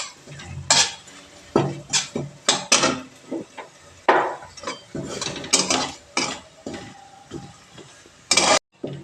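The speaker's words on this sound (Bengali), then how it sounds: "এই দেখো মশলাগুলো ভাজা ভাজা হয়ে গেছে" Spices fry in a pan while a utensil stirs and scrapes against the metal, making irregular loud clatters and knocks over a soft sizzle.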